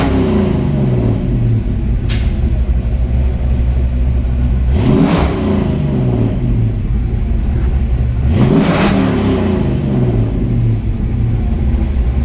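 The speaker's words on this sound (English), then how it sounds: "Just hitting the throttle." A 1967 Ford Mustang's engine idles with a loud low rumble, then revs up sharply twice as the throttle is blipped, each rise climbing and falling back to idle, close and alone.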